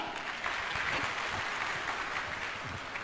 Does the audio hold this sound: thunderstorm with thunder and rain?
no